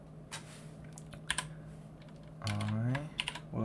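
Scattered keystrokes tap on a computer keyboard in short irregular bursts, fairly quiet and close, with a voice briefly speaking partway through.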